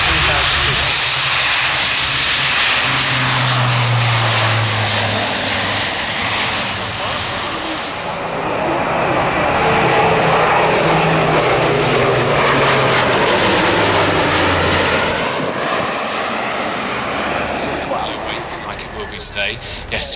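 German Air Force A400 turboprop transport taking off at an air show, its propeller engines roaring loud and continuous with a shifting drone as it climbs away, while a commentator talks over it.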